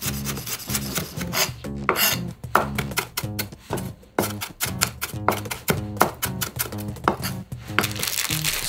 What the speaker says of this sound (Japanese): 大量のネギを素早くみじん切りにしたいときにおすすめのやり方だ